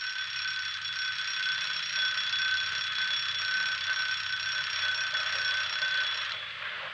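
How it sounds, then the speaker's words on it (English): An old wind-up alarm clock rings continuously in a steady, loud metallic bell trill for about six seconds, close by with no talking, then abruptly cuts off. "That's my little old alarm clock"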